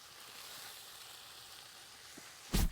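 Bacon on a Pit Boss griddle gives a soft, even hiss with fine crackle that runs unbroken, ending in a short loud clatter.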